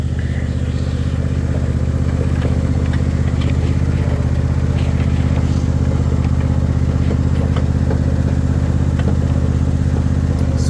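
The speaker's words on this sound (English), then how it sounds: "my main focus is just to mow around these trees, get them where the grass is not up so high" Lawn mower engine running steadily and loudly while mowing around trees in tall grass on acreage, a constant close drone with faint clatter throughout.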